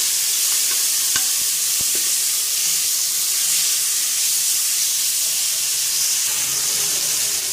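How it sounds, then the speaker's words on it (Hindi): Ginger garlic paste frying in a pot with browned onions for mutton pulao, a constant loud hissing sizzle broken by a few sharp utensil clicks, no one speaking. "अब मैं इसमें ऐड कर देने वाली हूँ जिंजर गार्लिक पेस्ट और इसको अच्छे से फ्राई कर लूँगी।"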